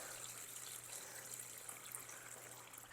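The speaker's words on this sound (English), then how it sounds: "I'm going to fill this container at least halfway with fresh water" Fresh water pours steadily into a seed-starting container, a faint continuous trickling hiss with a low hum beneath, no voices.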